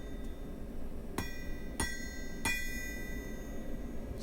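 A blacksmith's hammer strikes hot steel being forged into a taper: three sharp, ringing metallic blows spaced about half a second apart, heard over a low steady background rumble.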